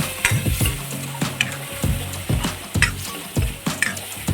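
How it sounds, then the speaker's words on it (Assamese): A paste of cumin, ginger, garlic and turmeric mixed with a little water fries in a pan in a village kitchen, with a crackling sizzle and repeated scraping stirs coming in quick, regular bursts, close and clear. "মছলাখিনি মানে ভাজি ল'বা"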